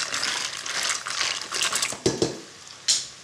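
Mussels with pepper being stirred in a pot, producing bursts of clattering shell-on-shell rattling and scraping, close and moderately loud, with a couple of distinct knocks near the end.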